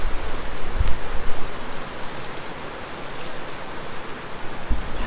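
Steady rain falling outdoors, the first rain of May in the Philippines, a dense continuous hiss of drops at close range with a few louder splashes, no voices.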